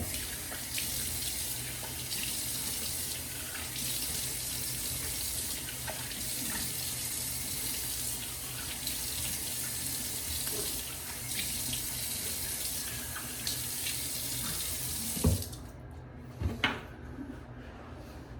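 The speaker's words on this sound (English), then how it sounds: "Go ahead and rinse off the face a little bit." Tap water runs steadily into a bathroom sink while a freshly shaved face is rinsed. The flow is a close, continuous rush that stops near the end, followed by a few soft knocks and clunks.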